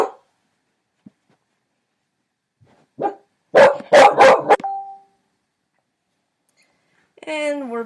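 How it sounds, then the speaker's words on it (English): A pet dog barks in a tight burst of several sharp barks after near silence, close by, and a brief voice follows afterward. "My dog heard a noise and started barking at something."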